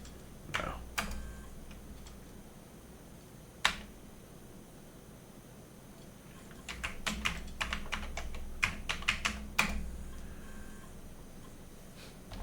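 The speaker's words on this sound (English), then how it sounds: "It wobbles a bit when I type on it." Keys clack on a slightly wobbly Commodore 128 keyboard, scattered single presses at first, then a quicker burst of clicky typing, close and fairly quiet.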